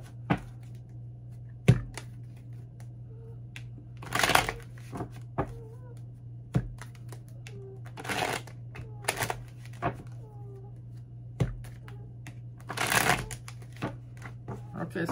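Tarot cards are shuffled in short, crisp riffling bursts spaced a few seconds apart, with soft taps between them over a low steady hum.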